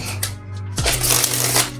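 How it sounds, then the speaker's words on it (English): Tarot cards shuffled up close, a quick riffling burst of papery flicks and snaps, loud and alone for under two seconds. "We're going to shuffle this up."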